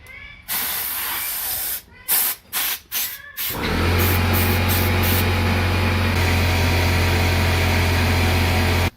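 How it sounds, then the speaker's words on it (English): Compressed air is blown into the side of a handlebar grip on ProTaper handlebars: several short, sharp hissing bursts, then one long continuous hiss over a low steady hum. "just take some compressed air, put it in the side of the grip"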